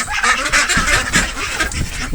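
Baby ducks call in a dense, continuous cluster of loud, overlapping cries, close by and without pause, with no talking.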